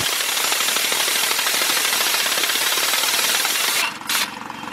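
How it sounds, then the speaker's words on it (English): An air compressor runs steadily during a timing belt job on a 2002 Dodge Stratus 2.4, a loud, continuous close-up roar with a brief dip near the end. "Alright, got our air compressor going."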